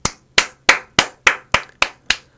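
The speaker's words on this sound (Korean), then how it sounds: "자 여러분들 우리 박수 한번 치고 시작할게요." Eight sharp hand claps ring out one by one at an even, steady beat, loud and close, with no talk between them.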